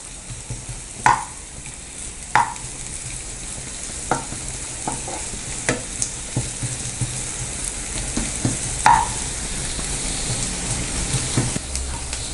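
Biryani masala for a paneer tomato biryani is sautéed in a pan, with a steady frying sizzle punctuated by repeated sharp spatula scrapes and taps at an irregular pace, close and clear with no talking.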